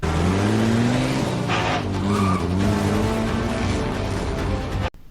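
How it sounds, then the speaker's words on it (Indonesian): A favourite car chases another car, engines droning loudly with rising pitch as tyres squeal and skid through turns, close and intense before cutting off abruptly near the end. "Chris dan Mai mengejar Owen dengan mobil kesayangan Chris itu."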